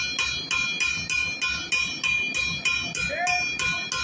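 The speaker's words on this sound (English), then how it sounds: "I'm choked up on my hammer so I don't have to lift the head up" A blacksmith's hammer forges steel into a longhorn steer figure: about nine evenly spaced, ringing blows land close by, roughly two per second, each with a bright metallic tone that decays before the next strike.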